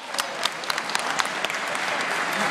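Steady applause from a crowd at an elementary school graduation, many hands clapping continuously with a few sharper claps standing out, filling the whole moment.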